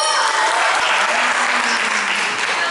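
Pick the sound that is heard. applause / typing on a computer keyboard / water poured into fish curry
applause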